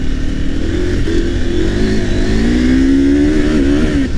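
A Husqvarna Norden 901 adventure motorcycle engine runs steadily and rises in pitch as it revs, loud and close throughout with a droning, buzzing tone and no talk over it.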